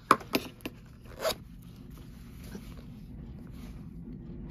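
Zipper on a leather purse with a long leather strap: a few short, sharp zip strokes up close at the start, then quiet room tone.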